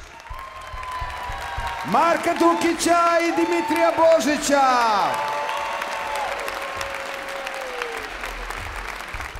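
Audience applause at a televised concert show, a crowd clapping steadily under a man's amplified announcement that ends with sustained sung or shouted tones, the clapping carrying on and fading toward the end.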